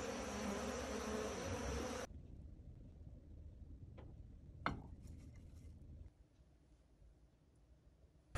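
A steady honeybee buzz hums beneath a low rumble, with a few brief louder passes as bees fly near.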